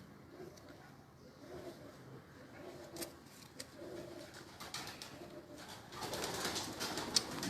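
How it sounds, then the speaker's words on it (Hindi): Teddy pigeons coo softly in their coop, with repeated low, gentle coos in short bursts amid faint rustling and clatter, growing busier toward the end. "झाड़ों में कबूतर बच्चे हैं माशाल्लाह जी"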